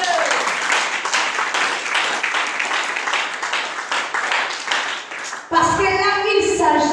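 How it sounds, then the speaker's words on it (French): A church congregation applauding and cheering during a French-language sermon: dense clapping and cheering fill most of the stretch, then break off abruptly as a voice comes in. "Je croyais que vous deviez acclamer pour ça"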